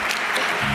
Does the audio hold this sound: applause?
yes